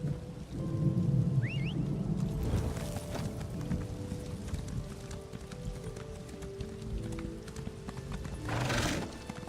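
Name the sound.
horse hooves clip-clopping, from video game Elder Scrolls Online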